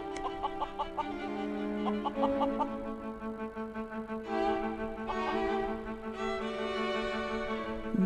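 A rooster clucks in short repeated bursts, fairly close, over steady tonal background music with no talking.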